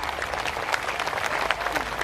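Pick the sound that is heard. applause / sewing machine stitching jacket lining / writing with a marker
applause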